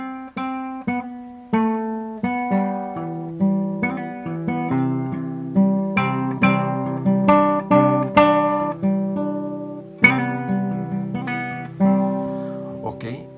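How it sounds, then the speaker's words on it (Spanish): A guitar plays the arpeggiated intro of a song, plucked notes ringing over one another in a steady flowing pattern, close and clear with no talking. "Con el arpegio, que suena así."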